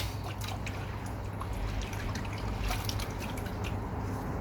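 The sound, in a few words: water being poured into tank equipment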